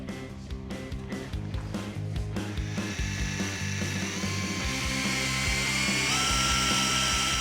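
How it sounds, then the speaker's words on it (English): A power drill with a 5/16 bit ratchets in short clicking bursts, then runs into a sustained high whine as it bites through the metal roof of a Toyota 4Runner; close and loud, no speech. "Take it off so I can drill those holes out too then."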